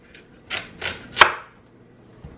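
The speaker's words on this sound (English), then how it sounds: "And then I kind of just do like a rough chop." A knife roughly chops potato on a cutting board, with four quick, close chops spaced about a third of a second apart, the last one the sharpest.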